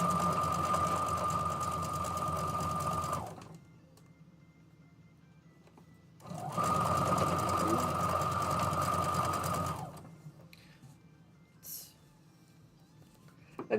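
A sewing machine runs two bursts of steady, rapid stitching along a bulky quilt seam for a tulip table runner, each lasting a few seconds with a quiet pause between and a faint clatter afterward.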